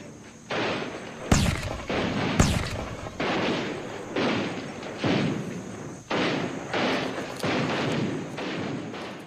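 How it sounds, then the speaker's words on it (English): Rifle volleys in a battle sound effect, depicting nineteenth-century British rifles firing on rebels in India: repeated booming shots with sharp cracks, evenly spaced and echoing, with no talk. "The new rifles played a key role, picking the rebels off at long range."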